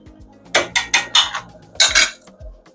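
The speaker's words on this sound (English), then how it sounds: "Then I'm just going to give it a mix." A metal spoon scraping and clinking against a pot while butter is mixed into jollof rice, a quick run of close, bright knocks and scrapes in two bursts, then quiet.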